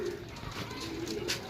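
Pigeons for sale coo steadily at close range, low rounded coos rolling one after another over faint background noise, with no talk.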